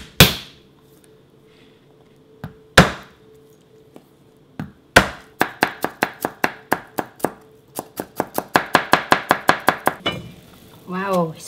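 A knife thinly slices garlic cloves on a cutting board, first a few isolated strikes, then quick rhythmic bursts of rapid taps, close and crisp.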